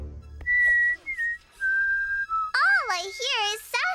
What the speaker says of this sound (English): Sasquatch whistling